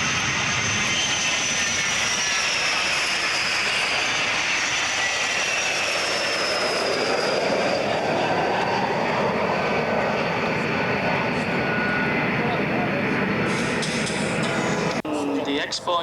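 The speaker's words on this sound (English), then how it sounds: "now flying past from left to right, we have the Patriot Willow in Holland" A fixed-wing aircraft flies past from left to right at the Boscombe Down international air tournament in 1992, its loud continuous engine roar swelling and shifting in pitch as it crosses overhead, with a faint public-address voice beneath.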